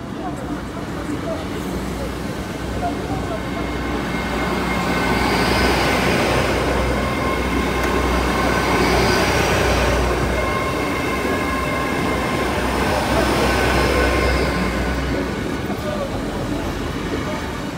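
A Class 60 or Class 66 railtour train rumbles past a level crossing steadily with a broadband roar and rail hum that swells and fades, staying loud throughout, with faint talk in the background.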